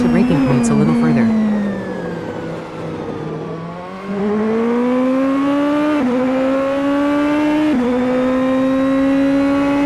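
Super GT race car engines at Fuji in Assetto Corsa: a loud, steady engine tone climbs through the gears, dropping in pitch at each upshift before rising again, close and continuous.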